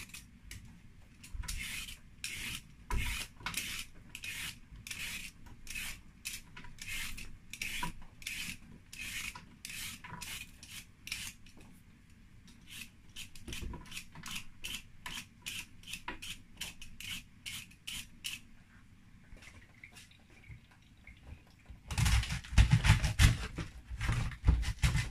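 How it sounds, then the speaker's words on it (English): A carrot is scraped by hand, producing a long series of close, evenly spaced rasping strokes, quiet and steady, then a louder, busier burst of scraping near the end. "First thing, I'm going to scrape the carrot."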